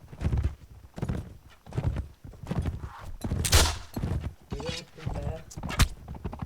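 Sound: horse galloping in video game Mount & Blade: Fire and Sword

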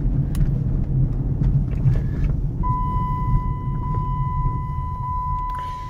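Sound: car engine idling

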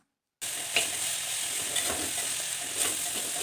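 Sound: stirring and sautéing in a pan

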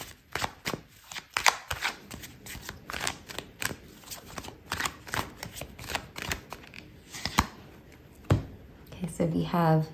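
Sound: shuffling tarot cards

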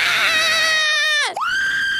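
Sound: screaming in a horror video game

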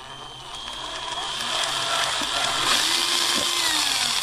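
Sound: drill boring hole in enclosure box

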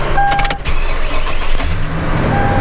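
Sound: Toyota Tundra 5.7 truck engine starting up

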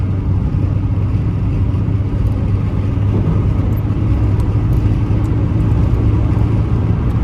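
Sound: BMW 316i engine accelerating with throttle pressed

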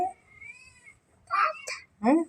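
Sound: cat meowing

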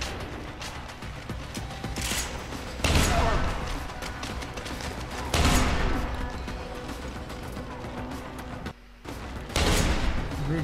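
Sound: gunfire in Deus Ex: Human Revolution video game

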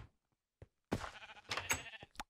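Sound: sheep bleating in video game Minecraft

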